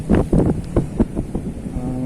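Gusty wind buffets the microphone at an outdoor fishing spot where mullet are being caught, coming as loud, low rumbling bursts that ease into a steadier whoosh, with no talk.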